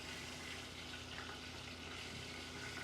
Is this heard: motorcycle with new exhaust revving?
no